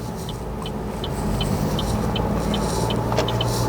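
A 2025 Chevrolet Trailblazer FWD LT on a test drive gives a steady cabin drone of engine and road noise that swells slightly as it picks up speed, with a regular ticking indicator clicking throughout.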